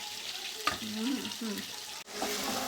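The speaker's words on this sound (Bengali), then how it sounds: "পেঁয়াজটা এখন হালকা একটু ভাজা ভাজা হয়ে গেলে এর মধ্যে আদা রসুন পেস্টটা দেবো" Onions fry in hot oil for khichuri with a soft, steady sizzle, faint and close, broken by a brief clink, and a quiet voice is heard over it.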